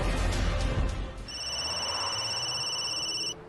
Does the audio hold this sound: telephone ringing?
yes